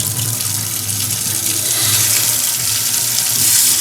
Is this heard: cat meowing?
no